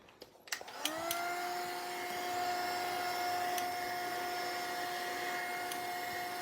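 A heat tool switches on and runs steadily, drying freshly painted craft pieces with a continuous close whirring blow and a high whine that holds for several seconds.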